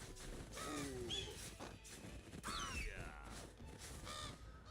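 Harsh cawing birds in the fantasy game Ashes of Creation, several rough calls scattered across a steady wash of in-game ambience, fairly close and without talk.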